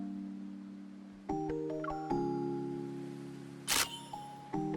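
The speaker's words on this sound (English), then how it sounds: "With a crisp sound of the shutter, the film captures a moment that makes my heart skip a beat." Soft game music from Love and Deepspace plays, then a single crisp camera shutter click cuts sharply through it near the end, followed by the music continuing.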